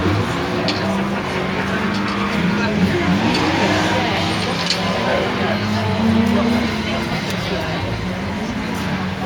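A Peugeot 206 GTI rally car sits on the start line at the Brean Stages Rally, its engine running in a steady, fairly loud rumble, with a commentator talking over it throughout.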